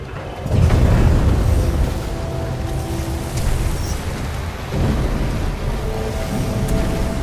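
Deep rumbling booms and explosions roll through a collapsing facility in the Titanfall 2 video game, with a heavy blast near the start and lower continuous rumble afterward.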